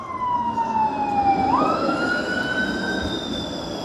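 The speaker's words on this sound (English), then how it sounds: "I might have to save you from the siren of the ambulance that's coming" An ambulance siren wails loudly nearby on a cold Toronto evening, its pitch sweeping down and then jumping back up, with traffic rumble underneath.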